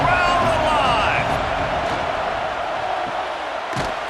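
A stadium crowd roars steadily in EA Sports College Football 26 during a third-down red zone play, with a whistle-like tone early on and a play-by-play voice talking over it.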